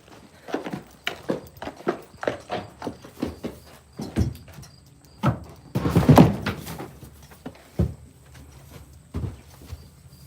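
A horse wearing a bitting rig walks into a barn, its hooves thudding in an irregular series of close, distinct hits, with a louder burst of clattering near the middle.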